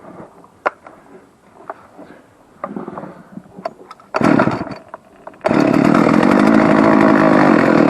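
An old Husqvarna 40 chainsaw cold-starts, sputtering through a few tugs and brief bursts, then catches and runs loud and steady at close range.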